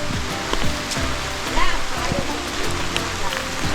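Steady rain pattering on surfaces on Jomalig Island, with people talking and laughing over the afternoon downpour.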